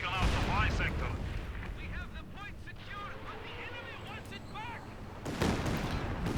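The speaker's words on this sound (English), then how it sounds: "Pretty close range Katyusha barrage here." A Katyusha rocket artillery barrage in Company of Heroes 2 fires at close range, a rolling rumble of launches and explosions with whistling rocket streaks overhead, under voice commentary.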